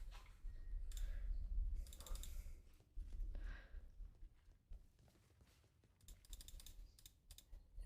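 Keys clatter on a computer keyboard in short bursts of fast typing with pauses between them, close but fairly quiet.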